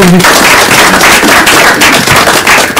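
Loud, dense applause from a studio audience at the close of a televised French-language current-affairs programme, a continuous crackling wash of clapping.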